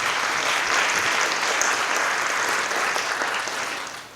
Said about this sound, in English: let us give Miss Nina a round of applause